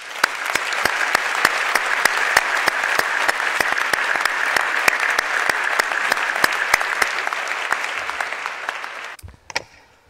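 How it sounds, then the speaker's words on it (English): A graduation ceremony audience at the University of Ottawa claps loudly and steadily for about nine seconds with sharp accents scattered through it, then the applause stops abruptly and leaves a few isolated claps. "Nous apprécions tous et nous applaudissons tous votre réussite."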